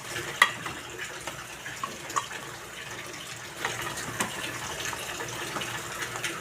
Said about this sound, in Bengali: অল্প পানি দেবো, বেশি পানি দিব না।